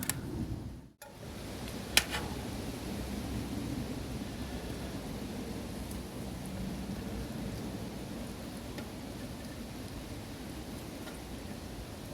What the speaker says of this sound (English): Oh, fuck off, rain.